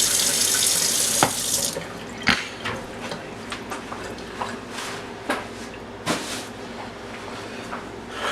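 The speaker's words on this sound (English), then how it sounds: "we're going to wash and clean our oysters" Tap water runs steadily into a sink while oysters are rinsed and cleaned, with a strong hiss at the start, then softer flow broken by several sharp knocks and shell clatters.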